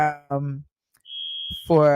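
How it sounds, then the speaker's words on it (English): A fire or smoke alarm sounds as one steady high-pitched beep of about half a second, heard between stretches of someone talking close to the microphone. "I can't deal with this alarm."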